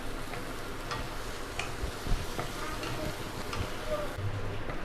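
Ingredients for sidol chutney, a fermented dried-fish relish, fry in a pan with a steady, moderate sizzle, broken by light scraping clicks as they are stirred.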